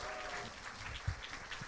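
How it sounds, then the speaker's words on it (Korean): Faint, distant applause from the audience at a public broadcast concert, a soft continuous patter with no clear individual claps. "여러분 다시 한번 큰 박수 부탁드립니다."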